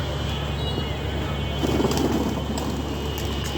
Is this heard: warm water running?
no